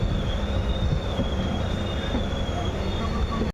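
The Sikkim Mahananda Express arrives at platform 1 of Alipurduar Road Junction in West Bengal, with a steady high wheel squeal over a loud, continuous rolling rumble that cuts off abruptly at the end.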